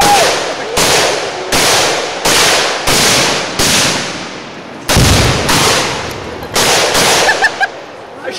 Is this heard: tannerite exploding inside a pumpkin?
yes